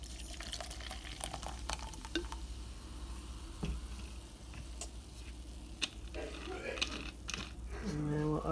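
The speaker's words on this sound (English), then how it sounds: "Pour the crush into this one." Crush soda is poured into a bottle and fizzes softly, with faint bubbling and small clinks at a low level.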